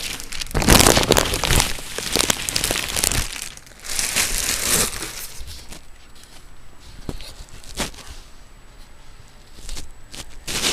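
Plastic and cardboard packaging crinkles and rustles as a Zalman Z11 gaming case is unboxed, with loud bursts of crumpling up close that thin out into quieter, scattered rustles.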